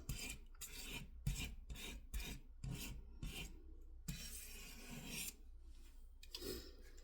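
A Maytag cooktop stove is scraped clean in a series of about nine short, rhythmic rasping strokes, then one longer continuous scrape and a final pass. The sound is close and fairly quiet, with no talking.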